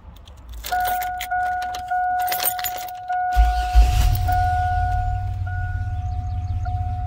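A Chevrolet Astro van's engine cranks and catches partway through, then settles into a steady, close, rumbling idle. Earlier, a keys jingle and a steady electronic chime plays, with no talk.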